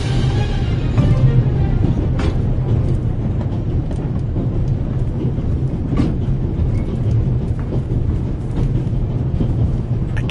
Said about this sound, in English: First, I'll stop the train